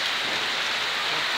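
Steady rain falling in Paphos, Cyprus, heard as a dense, even hiss of drops on surfaces, continuous and fairly loud throughout with no voices.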